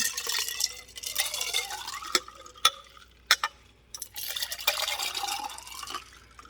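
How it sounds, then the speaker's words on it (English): Chicory coffee is stirred back and forth with a straw, making a steady liquid swishing and sloshing with a few sharp clicks and taps against the container, close up and without speech. "And I'm just going to mix it back and forth like this to make sure it gets mixed up."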